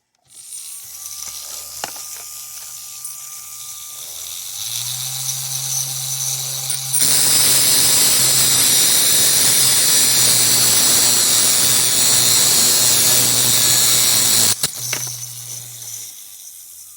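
A lapidary cutting wheel grinds fire agate with a steady, loud whirring scrape that begins midway and runs for several seconds before cutting off, while a lower motor hum runs underneath before and after the cut.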